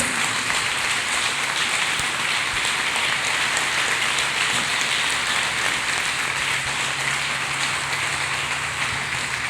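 Church congregation clapping hands together, a loud, dense, continuous patter of many palms sustained evenly, close and without any talking over it.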